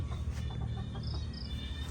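Chickens cluck softly in a rural garden, a few scattered calls over steady low outdoor background noise with faint insects.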